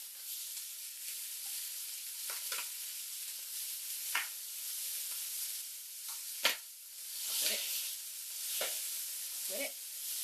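Butter browns with turkey neck and giblets for gravy, a continuous soft sizzle broken by scattered stirring scrapes and taps of a utensil against the pan.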